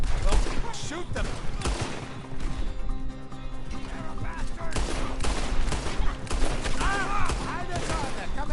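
Dense gunfire in Red Dead Redemption 2, rapid shots and bursts overlapping with crashes and game music, loud and continuous, with voices talking over it.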